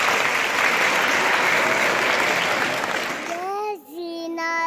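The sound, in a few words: audience applause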